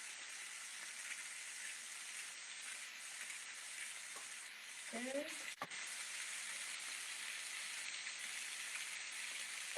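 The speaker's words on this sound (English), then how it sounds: "Got a nice little sizzle going." Quiet, steady hissing sizzle of salmon frying skin-side in a pan, with a brief spoken word and a soft clink partway through.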